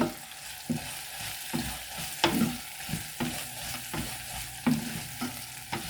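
Cumin and fenugreek fry in a pan for an eggplant and chickpea curry, a steady oily sizzle broken by repeated stirring scrapes and knocks at an uneven rhythm, close and fairly quiet, with no talking.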